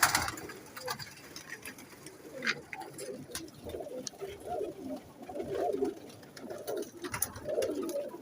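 Pigeons coo softly in a breeder's loft, low repeated murmuring coos overlapping through the whole stretch, with a few sharp higher clicks and calls above, fairly close and without talk.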